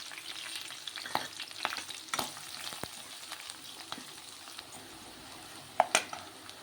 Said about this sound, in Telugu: ఉల్లిపాయ బాగా ఫ్రై అయ్యేంత వరకు ఫ్రై చేసుకుందాం